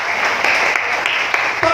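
Church congregation clapping, a brief, dense burst of many hands filling the room at close range.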